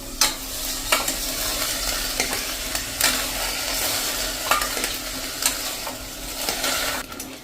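Moong beans being stirred into a curry in a pan, producing a steady close scraping and soft sizzle, with sharp clicks of the spoon against the metal at irregular moments.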